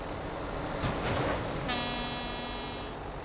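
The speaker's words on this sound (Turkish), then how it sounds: "Bir de kornaya bak." A car horn blares in two short bursts, the second held with a steady buzzing tone before fading into traffic noise.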